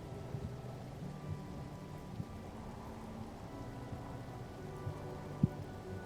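Rain and a storm in the video game No Man's Sky make a soft, steady patter of rainfall with occasional faint thumps, heard alone at low level.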